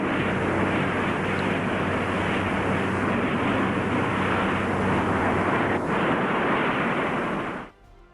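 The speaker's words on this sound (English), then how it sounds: "Historic footage captures the modified B-45's ascent on May 20," A modified B-45 jet aircraft climbs out in 1955 footage, a loud, steady broadband jet roar that holds evenly for nearly the whole stretch before cutting off abruptly at the end.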